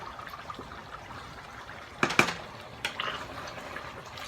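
Rice being stirred in a pot of cooking liquid for buttery chicken and rice: a low, steady wet bubbling and sloshing, broken by a few sharp utensil clinks and scrapes against the pot near the middle and again shortly after, with no talking.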